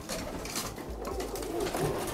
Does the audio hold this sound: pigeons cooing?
yes